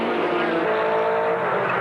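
Racing cars at Brands Hatch, including an Escort and a 1996 Harrier LR9C, roar past in a steady loud engine blare with a rising rev tone and no gaps.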